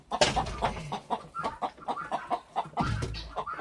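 Chicken near nesting boxes clucking in short, rapid bursts, close and moderately loud throughout, with low rustling beneath.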